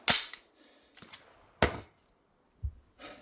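An EAA SAR K2 pistol in .45 ACP fires a string of about five sharp, cracking shots at irregular intervals, each a short bang with a quick decay, heard at moderate distance with quiet gaps between them.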